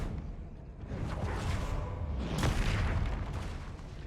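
Spell explosions in the video game Hogwarts Legacy burst out as booming, whooshing blasts over a continuous rumble, with a sharp crack near the middle and no voice on top.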